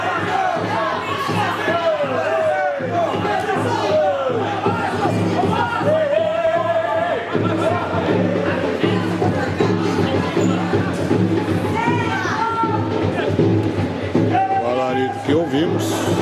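Água Santa supporters at a Série A3 football match against São José dos Campos roar and whistle in protest over a referee's foul call, a loud sustained crowd din with a commentator talking over it.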